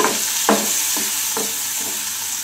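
Vegetables cook on medium flame in a pan on the stove, giving a constant close sizzle broken by a few soft stirring scrapes, with no voices.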